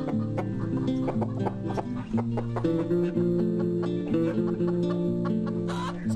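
Hens on a Shahsavan nomad farm cluck repeatedly while laying eggs, a close, busy run of overlapping throaty clucks and short calls with no talk over them.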